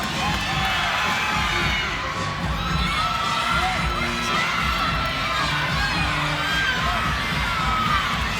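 A large crowd at a college gymnastics meet cheers and shouts continuously, a dense, loud roar of voices with whoops rising throughout, heard from within the arena.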